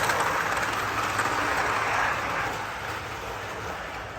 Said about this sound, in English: I'm going to enjoy watching some trains run for a little bit